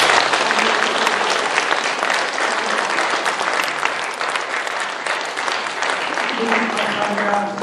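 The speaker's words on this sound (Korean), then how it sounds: "우리 뜨거운 박수로 한번" A church congregation at a pastor's retirement service breaks into warm, sustained applause, dense and even throughout, with a voice briefly audible near the end.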